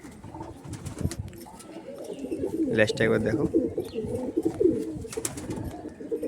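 Pigeons coo from a closed-tail breed at a Howrah pigeon sale, soft and repeated beneath someone talking throughout.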